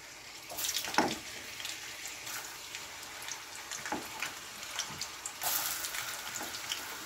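Carrots dropped into hot cooking oil for chicken afritada, giving a steady close hiss and crackle with brief louder bursts of sizzling and no talk.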